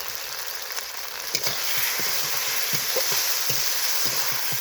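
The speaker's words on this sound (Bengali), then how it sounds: "মশলার সঙ্গে কষিয়ে নেব মাছের মাথাটা" Fried fish heads stirred with spices and salt in a pan: continuous moderate sizzling with soft rhythmic knocks and scrapes of a spatula, close up and without voices.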